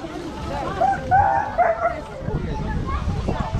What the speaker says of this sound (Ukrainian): Бойцовский пес.